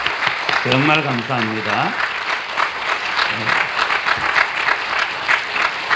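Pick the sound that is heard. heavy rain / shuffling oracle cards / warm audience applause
warm audience applause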